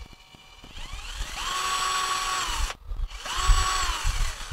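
A WOSAI 20V WS-MD13 brushless cordless drill whirs up to a steady high-pitched spin, stops briefly, then revs up again, close and loud with no talking.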